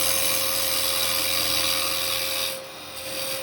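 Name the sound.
carbide chisel woodturning a small lidded Japanese box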